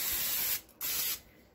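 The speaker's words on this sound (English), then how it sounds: "we are going to take our cooking spray and we are going to spray the bottom and the top" Two short bursts of cooking spray hiss loudly and close as they coat a waffle iron, separated by a brief pause.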